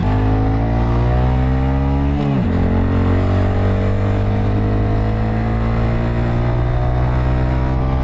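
A Honda Grom motorcycle accelerates at full throttle on a freeway. The engine drones loudly and steadily, shifts gear once with a brief dip, then keeps pulling at a high, sustained pitch, with no talking.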